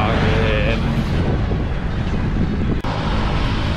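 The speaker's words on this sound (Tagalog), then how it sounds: "Ang lamig ng simoy ng hangin." Strong, cold wind roars and buffets continuously, a loud rushing blast of riding fast in open air near Floridablanca, Philippines, with a brief dropout near the end.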